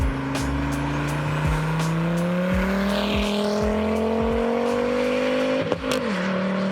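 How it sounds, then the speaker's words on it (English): A C8 Corvette Z06 with a flat plane crank V8 engine revs hard as it accelerates, a loud, high, steadily rising engine tone with clear harmonic layers, ending in a quick shift near the close. "This was again the C8 Corvette Z06 with a flat plane crank V8."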